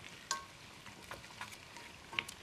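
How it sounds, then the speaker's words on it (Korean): Duck pieces are quickly stir-fried with two spoons on a hot pan, with a soft sizzle under a few sharp metallic clinks of the spoons. "숟가락 두 개를 이용해서 재빠르게 볶아주세요"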